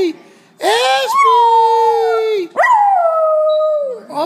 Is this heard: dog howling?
yes